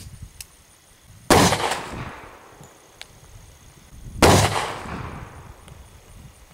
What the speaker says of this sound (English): I have a Rock Island Armory 10mm. We're using HPR 180 grain jacketed hollow points.